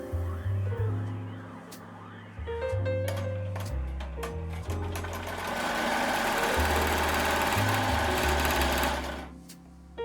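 Embroidery machine stitching a keepsake design from old neckties: rapid mechanical whirring and needle chatter in bursts, pausing and restarting with shifting pitch, close and fairly loud with no talking.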